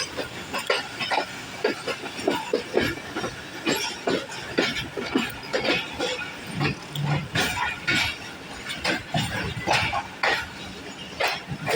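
Onboard the 102 DN Subak Raftar railcar running from Jhelum to Wazirabad, wheels clatter in a dense, irregular rhythm over the rail joints beneath a steady rushing roar, loud and continuous throughout.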